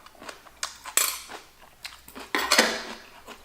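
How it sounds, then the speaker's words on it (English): Chopsticks splitting and cutting through vegan Korean soybean paste stew (doenjang jjigae), giving scattered close clicks and scrapes against a bowl with a few louder clacks, all without speech. "See how you do splits with your chopstick and then chopstick even works as a knife."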